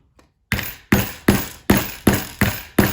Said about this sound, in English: Got a hammer. I'm sure this will fix it.